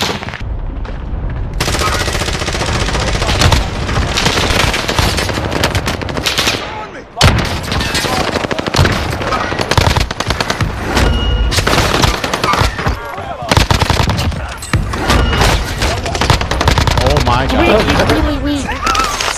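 Rapid, loud gunfire fills a Call of Duty Warzone firefight, dense bursts of shots hammering almost without pause, broken by a brief lull, while players talk over the action.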